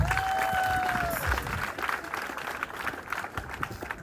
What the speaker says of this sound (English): Mighty hand clap.